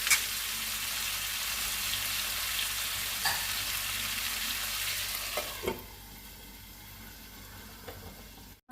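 Jackfruit and potato curry simmers covered on low gas, a soft continuous sizzle and bubbling that drops noticeably quieter partway through, with no talk.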